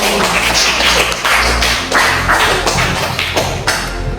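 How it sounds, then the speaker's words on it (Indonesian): Audience clapping at a school teacher-training presentation session, a dense, steady applause of many hands carrying on throughout without talk. "Kita berikan tepuk tangan yang meriah untuk Sakila Meli."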